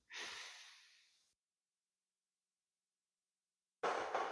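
A seated person takes a deep breath during a core exercise on a yoga block, a long breathy exhale fading over a second, then silence before another strong breath begins.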